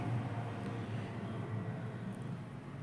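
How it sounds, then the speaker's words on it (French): A tractor engine drones steadily in the background, a continuous low rumble with no breaks and no voices over it. "Désolée pour le bruit, c'est le tracteur."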